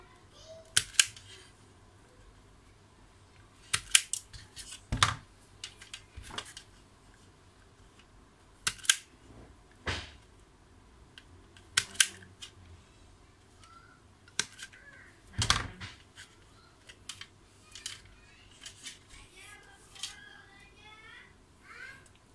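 Electrical wire for an extension plug being cut, sharp snips and clicks spaced out irregularly with quiet gaps between, fairly close, while a person speaks softly at times.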